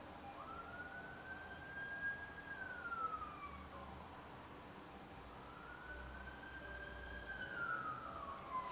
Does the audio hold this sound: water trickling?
no